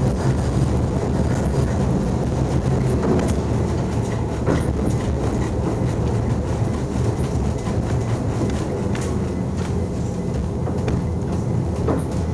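A Moscow tram on route 20 runs along its rails with a continuous rumbling roar and scattered wheel clicks and knocks, heard from on board at a steady level with no talking.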